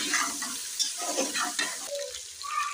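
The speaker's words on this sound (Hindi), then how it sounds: "अच्छे से मिक्स करेंगे।" Bay leaf, cinnamon, star anise, green cardamom and cloves sizzling in hot oil in a pot, stirred with scraping spoon strokes over a steady fry, close and alone for a few seconds.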